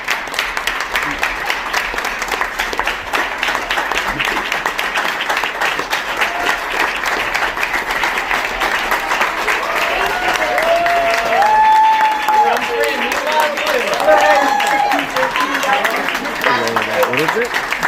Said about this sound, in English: They're all clapping for this guy like he did something historic.